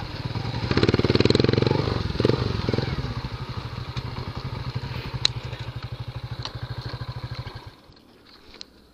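A Skygo Boss 150cc motorcycle engine runs steadily up close, a loud rapid pulsing throb that rises briefly near the start, then settles into an even idle-like beat before cutting off near the end.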